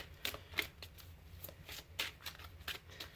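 A deck of Angel Therapy oracle cards is shuffled by hand, giving quiet, close riffling bursts in an irregular rhythm.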